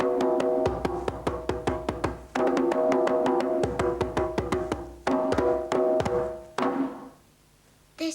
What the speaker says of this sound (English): This is a djembe drum and you can make 2 different sounds with it.